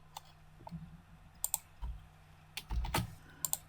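Computer keyboard typing and mouse clicking at a desk, with soft scattered key taps and a few crisper clicks in short irregular bursts, close and quiet.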